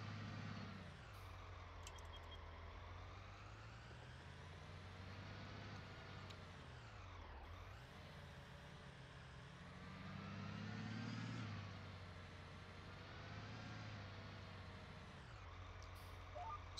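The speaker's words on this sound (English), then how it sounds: "it's got a geared turbo, and you hear that kind of whine" Steady rising and falling whine of a truck engine with a geared turbo in a farming video game, pulling a disk through a field; the tone sweeps up and down continuously with a low engine drone beneath and no talk.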